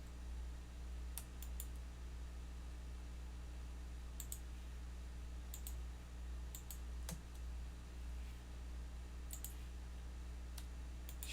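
Computer mouse clicks during AutoCAD drafting work, sounding as sparse, sharp single clicks spaced irregularly over a quiet, steady background hum.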